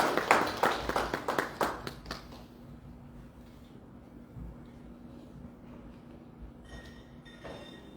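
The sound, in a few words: audience applause at conference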